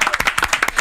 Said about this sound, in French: faire du bruit, d'applaudir bien comme il faut le grand créateur de mode